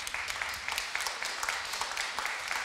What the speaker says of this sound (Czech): pro posluchače u rozhlasových přijímačů to byl takový slabší potlesk